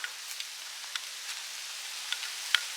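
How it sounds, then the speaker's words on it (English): Heavy rain falling at a woodland wild camp among old beech trees and a Scots pine, a steady soft patter with occasional sharper drops striking close by. "that's the rain's super heavy"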